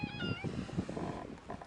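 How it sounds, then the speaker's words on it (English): Cat meowing outdoors near a street, a short rising-falling meow at the start followed by low rumbling background noise, fairly faint. "That was a cat."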